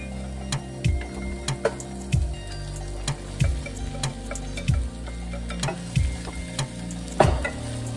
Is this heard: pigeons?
no